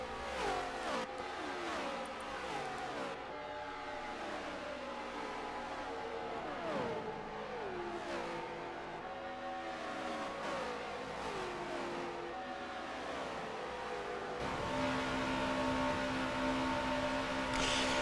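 NASCAR race cars in Forza Motorsport 7 at Indianapolis, a pack of engines revving and droning continuously with rising and falling pitch sweeps as cars pass, loud throughout with no talk.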